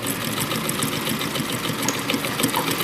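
A sewing machine runs single-needle stitching with a continuous fast whirring rattle of the needle mechanism, steady and close throughout.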